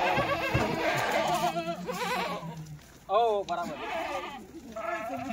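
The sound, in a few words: Kathiawadi goats bleating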